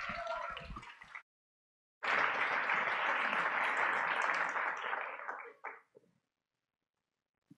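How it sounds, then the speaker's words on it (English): Audience applause for a speaker at a university design talk, a burst of clapping, a short gap, then a sustained loud round of claps that tapers off with a few scattered final claps. "Please keep that round of applause going for Samantha Tousey."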